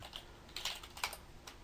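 Fingers tap on a computer keyboard at a command prompt, producing a short burst of quiet, irregular keystrokes with a few sharper clicks.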